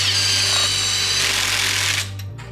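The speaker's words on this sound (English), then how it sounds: "Insert impact noises." Impact wrench drives lug nuts onto car wheels fitted with spacers, a loud, close buzzing hammer rattle that runs steadily for about two seconds before cutting off.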